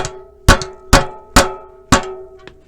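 Four sharp, ringing metallic taps spaced about half a second apart, then a fainter fifth, as a freehub body bearing is driven into its recess on a bicycle hub.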